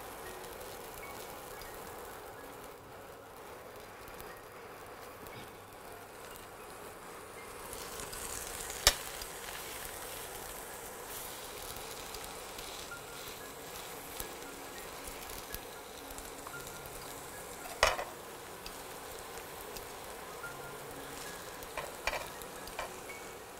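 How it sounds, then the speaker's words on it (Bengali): Grated coconut frying lightly in a pan gives a soft, steady sizzle with faint stirring scrapes and a few sharp utensil taps near the end, heard alone without talk. "নারকেলটা একদম হালকা ভাজা হয়েছে"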